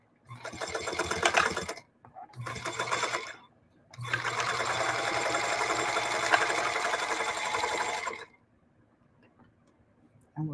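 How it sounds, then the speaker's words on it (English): Sewing machine stitching upcycled denim jeans into a bag with long stitches, running in two short bursts and then one longer steady run, close and loud, with quiet pauses between. "I'm just keeping sewing."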